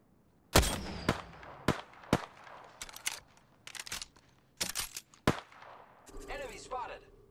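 Rapid bursts of gunfire in the battle-royale shooter Apex Legends on PS4, a dozen sharp cracks in an uneven rhythm, some close and loud, others trailing off, ending with a mechanical whir of game effects, with a player talking over the fight.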